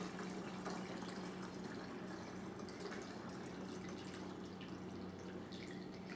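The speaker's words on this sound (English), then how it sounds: "then you're going to pour in some really hot water" Very hot water pours steadily into a homemade vinegar cleaning mixture, giving a continuous, faint liquid rush and trickle with no talking.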